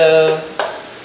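Ground hamburger or turkey sizzles steadily in a hot pan, with a close scraping stir near the middle and a soft clatter as the sizzle fades slightly.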